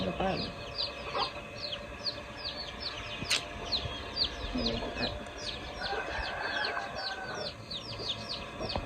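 Chickens cluck repeatedly in a rapid stream of short calls at moderate distance, with a faint voice in the background of a morning outdoor scene in Laos.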